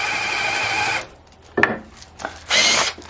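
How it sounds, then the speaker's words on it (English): Power drill boring straight down through the centre of three stacked bars of soap, a steady close whine for about a second, then a short bite and a final loud burst of drilling. "So I just take my drill and I just drill right down through the center"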